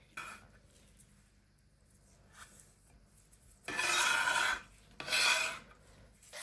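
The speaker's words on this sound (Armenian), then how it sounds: "Գազարը մենք նախօրոք խաշել ենք, մանր կողմով ենք քերում։" Boiled carrot rasped against the fine side of a kitchen grater for a salad, two loud scraping bursts after a few faint scratches, close and with no voices.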